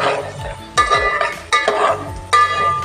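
Dry fruits frying in a pan for milk vermicelli, stirred with a metal spoon: repeated loud scraping clanks against the pan about every three-quarters of a second over a soft frying sizzle, with no talking.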